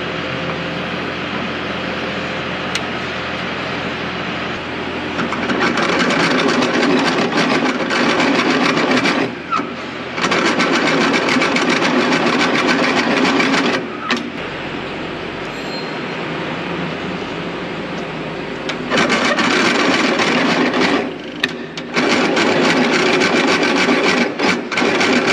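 A drill press bores a hole in a hard steel part of a Köckerling Quadro stubble cultivator, loud grinding bursts of cutting noise broken by short pauses, close and alone.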